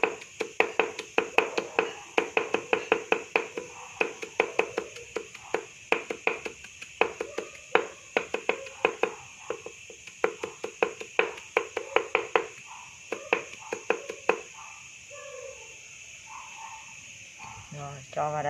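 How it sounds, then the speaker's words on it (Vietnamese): Green onions being minced with a knife on a cutting board, a fast run of sharp, close taps in irregular bursts that thin out toward the end. "Cho vào đây, băm hành nhỏ rồi cho vào."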